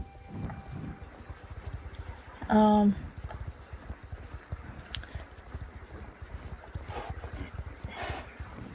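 Galloping horse hooves in a video game, ridden at full speed from a first-person view, drumming in a quick steady rhythm throughout, with a brief tonal whinny-like call partway through.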